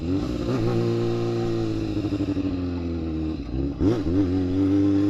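A superbike engine producing 45 horsepower at 9000 RPM revs loudly and close, rising and falling in pitch with a few sharp throttle blips near the end.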